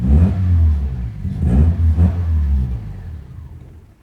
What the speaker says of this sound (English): By revving the engine, holding down the accelerator and then cutting the spark